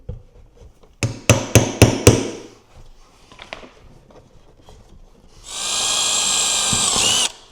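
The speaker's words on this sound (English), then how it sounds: "by just giving this a little tap with a hammer this direction" Five quick metallic hammer taps on a transfer punch in a row, followed by quieter clinks and then a few seconds of a whirring power tool, while building a truck underseat subwoofer box.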